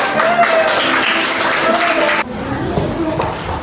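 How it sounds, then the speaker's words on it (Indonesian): Students in a classroom lesson break into loud, dense clapping for about two seconds, which then cuts off abruptly to a quieter room with faint movement and murmurs. "Tepuk tangan."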